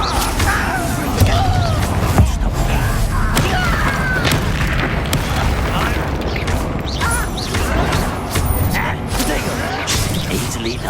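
Incendio fire spell blasts crash and thump through a Hogwarts Legacy battle, with dense booms, whooshes and impacts running throughout and voices talking among the combat noise.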